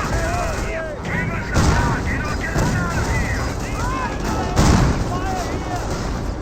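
Pak 38 anti-tank gun firing on a Panther tank amid heavy Company of Heroes battle fire, with repeated booms and gunshots under continuous commentary.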